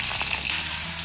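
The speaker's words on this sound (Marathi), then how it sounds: "जिरे छान तडकले की घालूया पाव चमचा. ही मिरची घालूया." Cumin seeds and chili crackling in hot oil in a home kitchen pan, a steady close sizzle running unbroken under no talk.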